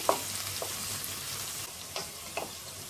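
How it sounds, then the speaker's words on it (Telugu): Chopped beans for egg fried rice are stir-fried in a pan, with a constant close hiss of frying and a few distinct scraping stirs spaced across it, without any speech. "ఇది కూడా కొంచెం ఫ్రై చేసుకోవాలి కలుపుతూ."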